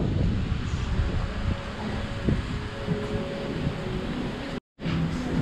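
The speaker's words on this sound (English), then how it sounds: "It's again very windy day." Strong wind on a windy morning in the U.S. Virgin Islands, buffeting the microphone with a heavy low rumble and gusty noise throughout, briefly cutting out near the end.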